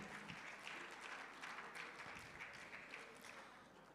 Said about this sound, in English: Please, a round of applause for the women.